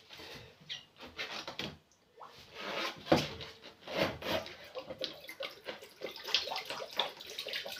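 Water splashing and running as a limescale-clogged steam generator iron is rinsed out, with uneven gushes and clatter of loosened deposits, fairly close and moderately loud throughout.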